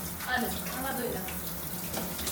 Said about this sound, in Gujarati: ફ્રૂટ બધા આમાં જ ધોઈ નાખી.